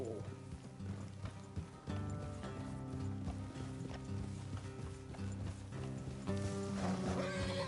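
Horses in the Red Dead Redemption 2 video game whinny and clop their hooves along a path, with steady in-game music or ambience and a short snort, heard up close alongside brief character talk.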